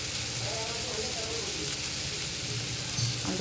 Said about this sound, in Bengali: এর মধ্যে আলু পটল এগুলো দিয়ে দেবো